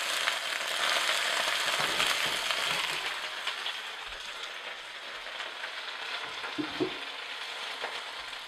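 Greens and onions sizzle steadily in a hot pan, a dense continuous crackle with occasional stirring clatters, close and fairly loud, no voices.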